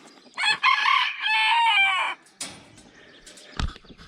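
Near a backyard coop a rooster crows loudly once, followed by a few short clucks and a brief knock, with no talk.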